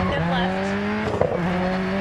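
A Ford Escort Cosworth drifting in the racing game Dirt 4, its engine holding a steady high drone while the tyres squeal briefly through the slide, with light talk over it.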